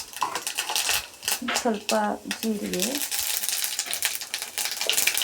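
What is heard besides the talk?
mustard seeds sizzling in hot oil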